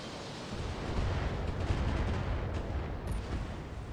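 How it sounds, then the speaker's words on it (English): Gauss rifle and PPC weapons firing in the Battletech video game, a dense roaring blast of mech weaponry that swells and holds steady over a few seconds, with no one talking. "Gauss Rifle does its job, and the PPC misses absolutely"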